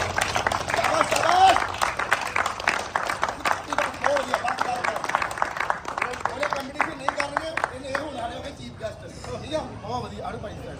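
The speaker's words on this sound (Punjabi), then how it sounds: "ਚੱਲ ਤਾੜੀ ਮਾਰ ਦਿਓ ਤਾੜੀ" A group at a village gym opening ceremony, with small children present, claps in a fast, steady rhythm for about ten seconds. Voices and crowd chatter run beneath the claps, and the clapping thins out near the end.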